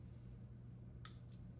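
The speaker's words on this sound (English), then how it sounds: "Be careful when you're actually cutting this nozzle." A blade snips through the plastic nozzle of a Teroson 9120 seam sealer cartridge with two brief, crisp cuts in quick succession. The cuts are close and quiet against a faint background hum, with no speech.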